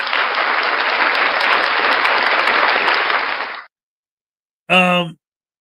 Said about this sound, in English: round of applause for First Amendment shenanigans